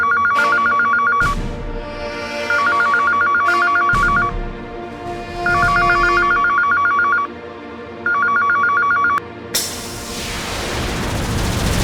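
A telephone rings in repeated loud electronic bursts, four trills with short gaps, before a sudden boom-like burst of noise.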